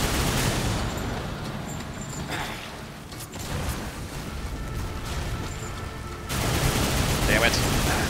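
Rapid gunfire from a weapon in the video game Darksiders 2 crackles and booms loudly and almost without pause, forming a dense, chaotic barrage of shots and explosions that runs the whole stretch, briefly thinning in the middle before surging again.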